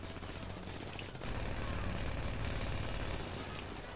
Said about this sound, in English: It's one-shotting me, whatever he's shooting me with.